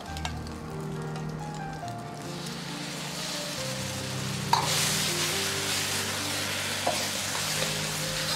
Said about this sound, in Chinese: 保持中火炒匀酱汁